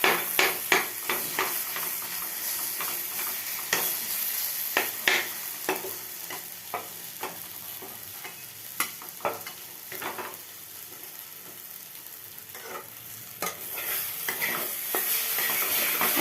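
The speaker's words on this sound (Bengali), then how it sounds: "যেমন এই যে ভাজছি, খুব সুন্দর স্মেল থাকছে" Food sizzles steadily in a pan while a spatula stirs it, giving repeated sharp scrapes and taps throughout over a continuous frying hiss.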